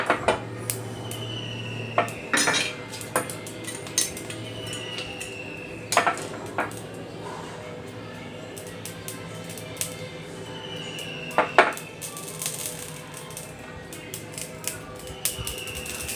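Mustard seeds spluttering in hot oil in a pan for a fenugreek-seasoned pirandai pickle: scattered sharp pops and crackles over a steady hiss, with occasional utensil clinks against the pan.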